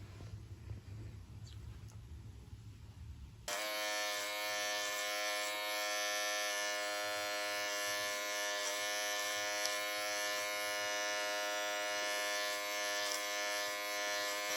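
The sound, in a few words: electric hair clippers cutting hair, clipper over comb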